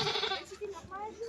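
Sheep at a zoo park in Germany give several faint, wavering bleats under a person talking nearby, with outdoor background noise.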